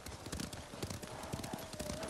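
Horse hooves clip-clop in a steady, close rhythm as a mount travels through a snowy area in the video game Ghost of Tsushima, over a soft ambient wash.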